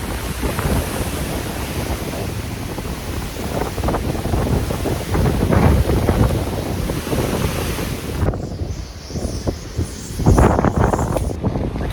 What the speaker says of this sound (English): Something I'm never going to be able to convey is just the noise of one of these storms.